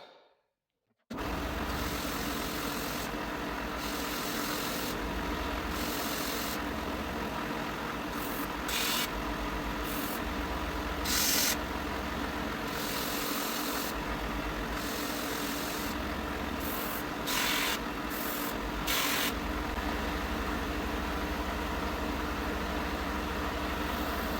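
A belt sander runs continuously with a steady motor drone, its pitch shifting slightly as wood is pressed against the belt, loud and close.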